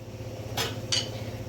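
A spoon knocks twice against a metal pot while khichu batter is mixed on the stove, two bright, short clinks over a steady low burner hum.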